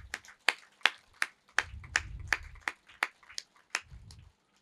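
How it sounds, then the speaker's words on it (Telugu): About a dozen sharp, evenly spaced hand claps ring out close and clear in a slow, steady rhythm, with a low rumble of background noise in between. "గట్టిగా చప్పట్లు కొడదాం"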